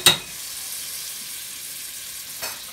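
Butter sizzling and frying in a hot pan for carbonara sauce, a steady close hiss that starts with a sharp burst as it hits the pan and flares again briefly near the end.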